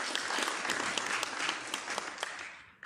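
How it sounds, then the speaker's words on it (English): An audience at a university innovation week and industry summit claps steadily, with dense, even applause filling the hall for a few seconds before cutting off abruptly. "A better round of applause"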